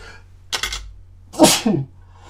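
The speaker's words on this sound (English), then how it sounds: "I'm going to sneeze." A single loud sneeze: a sharp intake of breath, then a forceful burst with a trailing nasal release, nearby, with no talking.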